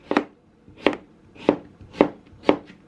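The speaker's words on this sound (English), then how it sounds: "I just slice it. I like them thin." Knife slicing vegetables thinly by hand on a cutting board for faux tomatoes, five crisp, evenly spaced chops close to the mic with quiet gaps between, no voices.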